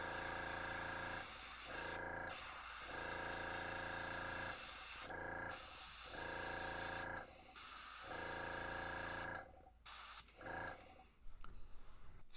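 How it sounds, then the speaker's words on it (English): Short hissing bursts from an airbrush painting a fishing lure, several separate sprays of a second or two each, close and fairly loud, with brief quiet gaps between. "Spray a bit on the head."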